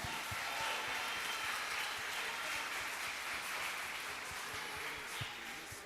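A church congregation applauds during a sermon, a steady wash of clapping from a large room lasting several seconds at moderate distance, without speech over it.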